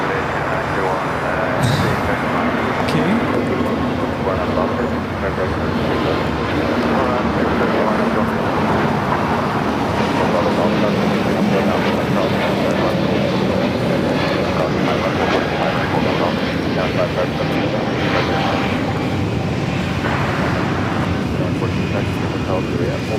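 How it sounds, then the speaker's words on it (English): A Philippine Airlines Airbus A330 taxis at LAX, a steady, loud jet engine rumble and whine rolling on outdoors at an airport, with a voice talking over it. "Philippine, the A330 also with the taxi light on."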